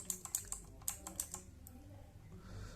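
Sharp clacks from the keys of a Redgear MK853 mechanical keyboard come in a quick burst of close presses, then thin out to a few taps before fading into quiet room tone.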